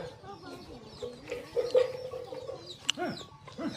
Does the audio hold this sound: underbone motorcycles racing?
no